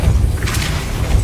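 A short, low booming thump with a soft whoosh of the Depulso force spell cast in Hogwarts Legacy, a single near burst lasting about a second.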